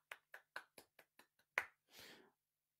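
A small group gives a quick round of hand clapping in support of the NHS: about eight sharp, evenly spaced claps, close and crisp, followed by a short burst of scattered applause.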